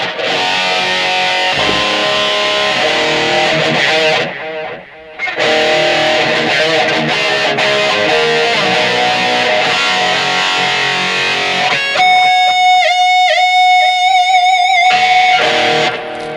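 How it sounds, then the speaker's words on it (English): Distorted electric guitar through a BOSS eBAND JS-10, played loud and continuously, first dry, then after a brief dip with reverb added and sustained ringing notes trailing off. "here is the tone with no reverb, and we're going to add the reverb"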